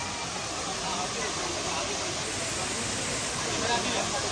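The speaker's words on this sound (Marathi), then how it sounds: "धबधबा बाबा कसा वावते." A waterfall in a park in Thane roars as a steady, loud broadband rush of falling water that stays even and close throughout, with no clear break.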